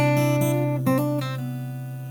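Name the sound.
fingerstyle acoustic guitar playing a song at full speed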